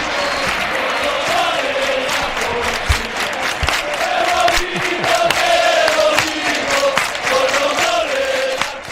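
Real Betis supporters chanting together in the stands at the Benito Villamarín stadium, a loud, sustained crowd roar with sung melodic lines and a few claps rising and falling throughout.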